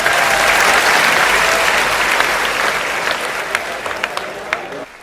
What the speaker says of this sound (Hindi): एक बार जोरदार तालियां बजाकर शंभू शेखर के लिए।